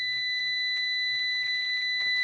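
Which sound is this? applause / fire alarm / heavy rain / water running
fire alarm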